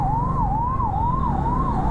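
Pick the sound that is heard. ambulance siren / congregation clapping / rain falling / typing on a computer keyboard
ambulance siren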